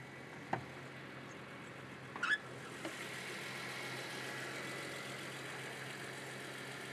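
A BMW Z4M's 3.2-litre, 340-horsepower naturally aspirated engine idling just after starting: a quiet, steady hum with a few faint clicks near the start.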